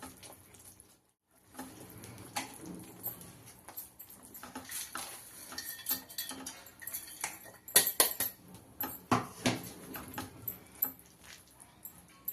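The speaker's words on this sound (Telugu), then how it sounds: "ఇప్పుడు బాగా కలుపుకుందామండి." Roasted coarsely ground peanuts stirred into hot shiny jaggery syrup for peanut chikki, a spoon scraping and clinking against the pan in a busy, irregular rhythm that grows louder toward the end, with no one speaking.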